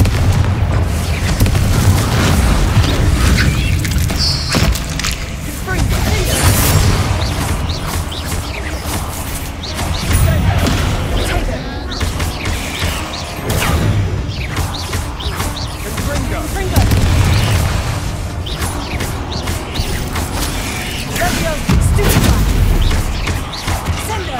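Confringo spell blasts in the video game Hogwarts Legacy, a run of loud booming explosions and crackling bursts layered over constant combat noise, with speech mixed in.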